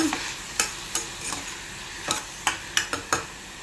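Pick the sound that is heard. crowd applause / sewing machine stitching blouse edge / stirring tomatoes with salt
stirring tomatoes with salt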